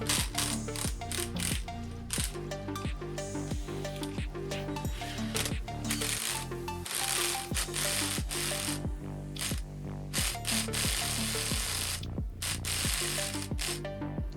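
A spring compressor tool works on STI shock springs, giving a steady run of rapid ratcheting clicks with repeated metallic pawl ticks, fairly close and continuous with no talking.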